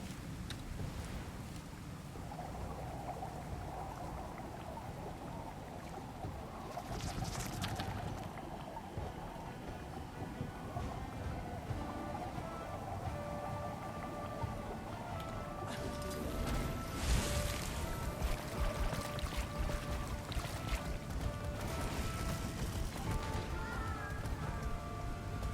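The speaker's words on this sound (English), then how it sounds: "The storm is here." A storm in the video game Guild Wars 2 brings a steady wash of rain and gusting wind that fills the whole stretch, swelling louder partway through, with faint tonal game sounds underneath.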